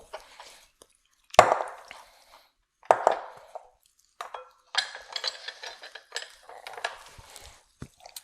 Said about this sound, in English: I'll go ahead and throw them in the bowl.